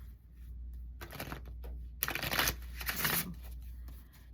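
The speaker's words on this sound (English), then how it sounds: "Shuffling the cards a little loud." Quiet riffling and clattering of a tarot card deck being shuffled by hand, in a few bursts with the loudest run in the middle, alone with no talk.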